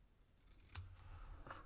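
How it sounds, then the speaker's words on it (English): Paper snips cut through embossed cardstock while making a sympathy card, giving two crisp, close snips spaced under a second apart over a quiet background. "we're just going to take some of our paper snips."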